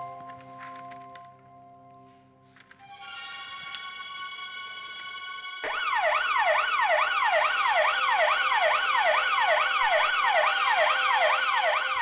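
A loud wailing siren suddenly starts partway through, rising and falling in a steady rapid cycle, after a quieter stretch of sustained tones. No one speaks.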